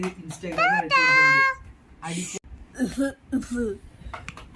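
Several short, rough coughs and throat-clearing bursts break out between animated, sing-song voice sounds, close and fairly loud, apparently a voice acting out the coughing.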